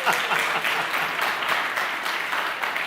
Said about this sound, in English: I live for the applause.